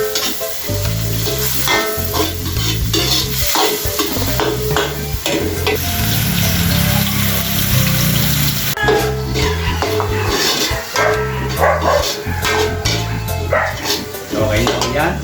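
Meat and vegetables stir-fried in a pan for chopsuey, loud steady sizzling with frequent metal utensil scrapes and clanks against the pan, close up.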